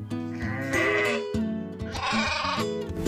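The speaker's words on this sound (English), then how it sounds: "Sheep." Two loud, drawn-out sheep bleats close by, one after the other, wavering in pitch.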